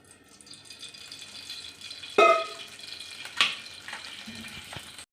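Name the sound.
spices and vegetables roasting in oil for egg curry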